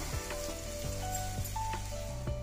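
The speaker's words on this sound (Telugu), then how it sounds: "ఇందా తీసి పెట్టుకున్న చింతకాయ రసం పోసుకుందాం." Tamarind juice poured into sizzling fried onions and hot oil in a pan, a steady loud sizzle and frying crackle with a few clinks from utensils, no voices.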